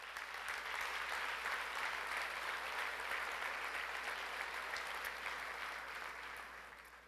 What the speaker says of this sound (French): Je pense qu'on peut les applaudir chaleureusement.